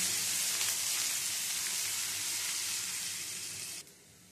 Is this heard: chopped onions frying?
yes